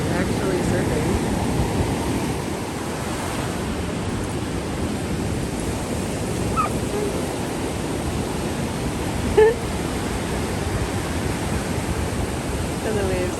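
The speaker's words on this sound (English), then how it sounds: "the waves come in, and they all run" Ocean waves breaking on a Florida beach, a broad steady wash of surf with a faint voice or two underneath.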